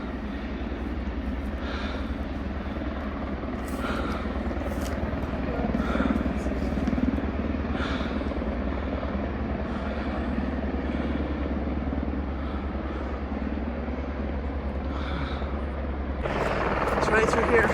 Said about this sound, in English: It sounds like the helicopter's moving again.